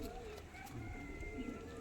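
Pigeons, a slender fancy breed shown by a keeper, coo softly and repeatedly at close range over steady background noise, with someone talking throughout.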